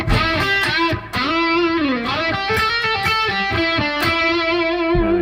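Electric guitar with a distorted tone playing a lick slowly, a sequence of separate picked notes and chord stabs with slides, loud and close, alone without talking.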